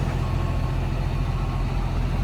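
A dump truck engine rumbles steadily at a construction site near an excavator, a loud continuous low drone with faint repeating reversing beeps running through it.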